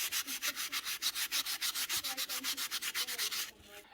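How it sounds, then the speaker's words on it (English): Rhythmic back-and-forth scrubbing as a fine sponge sander rubs loose bark off a small twig, about two strokes per second, close and quiet, with no talking. "we need to remove some of the loose bark still on this twig, and for this I use a fine sander, sponge sander"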